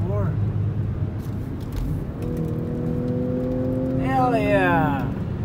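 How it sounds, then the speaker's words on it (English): An Audi S4 drives along with a steady engine drone, and a rising whine climbs through the gears as it accelerates, alongside people talking in the cabin. "Driving the S4."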